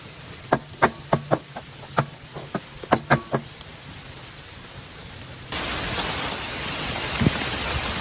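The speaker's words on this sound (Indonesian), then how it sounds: "Hujan di luar saya." Heavy rain falls outside a campervan: a steady hiss with sharp, irregular drips striking the roof and body close by, then the downpour swells louder and denser in the second half, with no talking.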